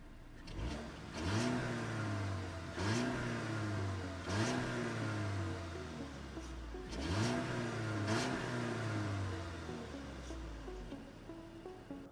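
A 2023 Audi A4 45 S Line engine revs repeatedly, about six sharp throttle blips rising and falling in pitch over a steady idle, recorded up close from behind the car with no talking.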